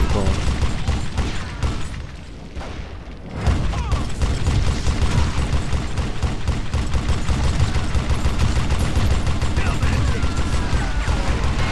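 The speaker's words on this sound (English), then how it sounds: "This Gatling gun is actually quite fun to use" A Gatling gun firing in Call of Juarez: Gunslinger, a continuous rapid mechanical rattle of shots that runs loud and close after a brief lull, with scattered other gunfire and occasional talk.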